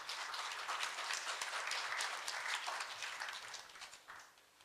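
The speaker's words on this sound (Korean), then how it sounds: "박수로 맞아주시기 바랍니다." An audience at a Korea University health forum applauds to welcome a speaker, a steady wash of clapping that holds for a few seconds and then fades out.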